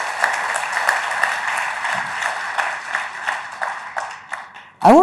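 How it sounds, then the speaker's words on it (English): Applause from an audience, a steady wash of many hands clapping that fades out, followed by a brief voice at the end. "I think that warrants a round of applause"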